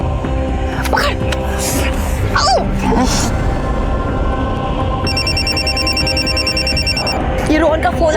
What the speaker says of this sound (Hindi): ये रोहन का फोन आ रहा है।